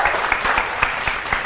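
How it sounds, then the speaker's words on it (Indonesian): Brief audience applause on a televised Ramadan quiz show: steady, even clapping from a small crowd, moderately loud and heard alone. "Oke, tepuk tangan dulu."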